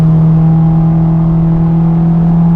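A Honda S2000 fitted with an HKS Hi Power catback exhaust holds a loud, steady high-rpm engine drone, with a strong sustained exhaust tone and no talking.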